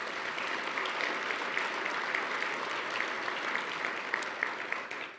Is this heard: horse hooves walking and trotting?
no